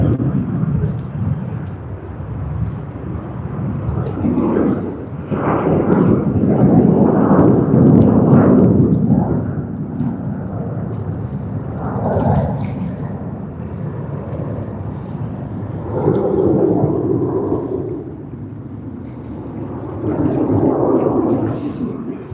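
A Jetstar airliner departing Sydney Airport for Cairns gives a deep, sustained roar that swells and fades over a long stretch, heard from a distance with no talk.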